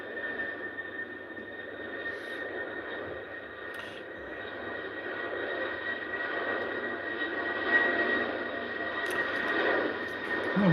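A British Airways jet airliner at Heathrow, a distant steady engine roar that slowly swells and grows louder toward the end, alone with no talk.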